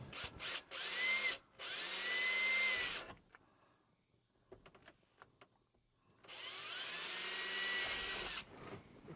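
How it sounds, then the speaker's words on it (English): A power drill whines loudly in two long bursts drilling a pilot hole while fitting trailer wiring, pitch rising as it spins up, separated by a few seconds of quiet shuffling and clicks. "if I drill a pilot hole"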